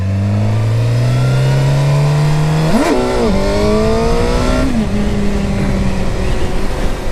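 A 2008 Suzuki GSXR 750 engine roars loud and close while riding, its pitch climbing steadily through a gear, then surging and dropping with quick shifts before holding a strong, even drone.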